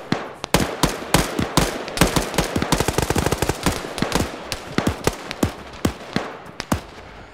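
Machine gun fire in the Arma military video game: rapid bursts of sharp, loud shots echo out, starting dense and thinning toward the end into spaced single reports, with no talk over them.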